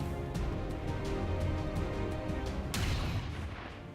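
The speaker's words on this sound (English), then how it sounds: "Malachi could take a shot at the purifier" Gunfire from the XCOM 2: War of the Chosen video game: a steady loud barrage with a few sharp shots, then a heavier blast near the end that fades out.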